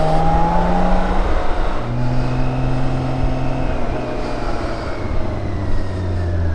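A Nissan car accelerates nearby, its engine droning and rising in pitch over a constant loud road and wind rumble, with no talk.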